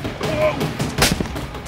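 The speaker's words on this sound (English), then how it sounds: "I'm being shot, I'm being shot, I'm being shot." Gunfire in the survival video game DayZ, a burst of shots around the one-second mark with a sharp broadband crack, set against dense game ambience and a voice talking over it.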